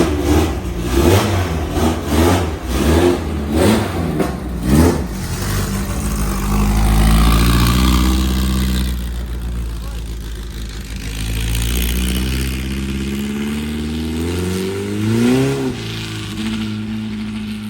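A 1969 Volkswagen Beetle engine running close by, pulsing through a series of short revs, then settling into a steady hum and climbing again, loud and alone.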